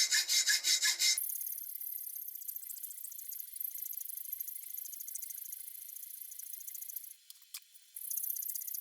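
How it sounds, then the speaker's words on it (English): A bimetal hacksaw with a waxed blade cuts a metal bar: a loud opening burst of strokes, then a thin, quieter steady rasping that pauses briefly and resumes near the end. "This is just your basic bimetal hacksaw that I'm using to cut it."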